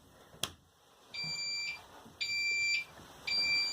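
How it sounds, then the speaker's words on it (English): A boat's depth sounder powered up during a winter boat project: a single click, then three sustained electronic beeps with short gaps between them, clear and close. "The depth sounder is working."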